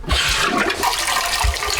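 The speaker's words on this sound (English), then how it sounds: "Flush it for you." Toilet in an abandoned house in Japan flushes with a close, steady rush of swirling water filling the whole moment.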